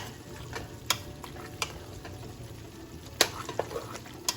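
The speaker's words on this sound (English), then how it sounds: "And now we're going to let this cook together" American goulash with noodles in sauce simmering in a pot, a faint steady bubbling under occasional soft scrapes and taps of a spoon.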